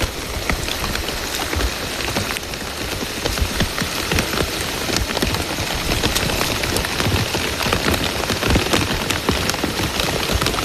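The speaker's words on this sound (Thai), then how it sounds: "ฝนตกนี่" Steady heavy rain patters densely on a hard surface, loud and continuous with scattered individual drops standing out, no voices.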